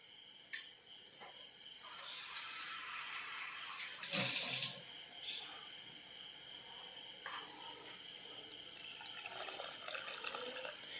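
Water poured into a pot of bitter gourd curry, a steady running stream with a brief louder splash midway, over faint background crickets.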